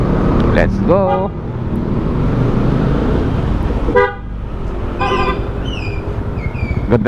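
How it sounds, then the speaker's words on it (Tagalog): On a road in Ilocos, a loud vehicle horn blasts several times, sharp and close, over continuous traffic and engine rumble, with voices heard briefly. "Ang busina ng malakas."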